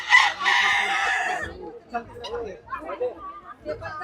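A rooster of a foreign breed at a poultry farm lets out one loud, close crow, followed by softer clucking and bird chatter from the flock.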